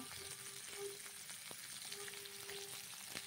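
Nigella seeds sputtering in hot oil, with garlic and onion to follow, a soft, steady crackling sizzle at low level with a few sharp ticks and a faint background hum, no voices.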